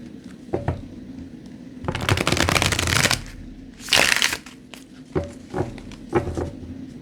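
Stiff laminated cards being shuffled by hand, with a long riffle burst followed by a second sharp riffle and a few soft taps as the deck is squared, loud and close.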